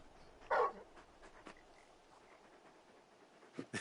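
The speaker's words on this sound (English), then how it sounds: "You're just a big puppy, aren't you? A very big puppy." A large dog in Final Fantasy XVI gives one short, fairly loud bark and then soft panting and faint snuffles, quiet and close, without speech.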